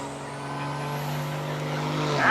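A diesel truck with a 5.9 engine accelerates hard at a truck shootout, its steady harmonic drone holding loud and close, then swelling in loudness and pitch toward the end, with no talking.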